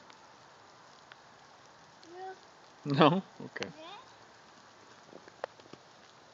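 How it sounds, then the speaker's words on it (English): Rain falls steadily on a backyard in cold weather, a soft continuous patter under the scene, while a child's vocal sounds and an adult's brief speech rise over it in the middle. "It's raining out here right now,"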